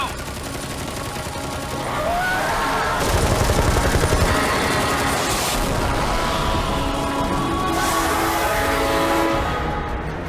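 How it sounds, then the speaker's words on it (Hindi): Dense machine gun fire in a battle, loud sustained bursts with heavy booming impacts and chaotic battle noise, with shouting voices mixed in. "गोलियां चलाते रहो।"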